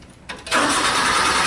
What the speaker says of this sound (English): Then you can start the machine.